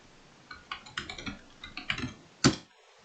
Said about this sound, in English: and type the second email.